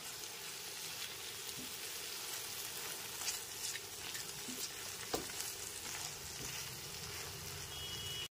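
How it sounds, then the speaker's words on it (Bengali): Potatoes and fried eggplant sauté with spices in a pan, giving a steady, continuous sizzle with occasional faint stirring scrapes and no voices. "ভেজে নেওয়া বেগুনগুলো দেওয়ার পর আলুর সাথে খুব ভালো মতো একবার মিশিয়ে নিতে হবে।"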